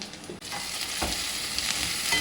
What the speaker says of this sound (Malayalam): അവിടെ ഉള്ളി മൂത്തുകൊണ്ടിരിക്കണം കേട്ടോ, സവോള മൂത്തുകൊണ്ടിരിക്കണം